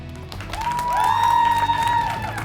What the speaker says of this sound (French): Donc, par applaudissement, qui remporte le défi du public?